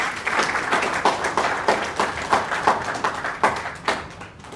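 Audience applause at a lecture event, a steady patter of many hands clapping with uneven peaks, moderately loud and alone, fading toward the end.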